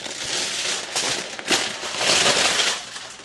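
Aluminum foil crinkles and rustles as it is pulled and handled nearby, in irregular crackling bursts that swell and fade, with no voices.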